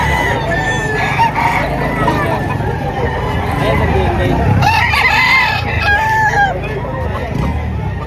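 Roosters crow repeatedly at a busy chicken market in Padre Garcia, Batangas, several birds overlapping with clucks while crowd chatter and people talking fill the background throughout.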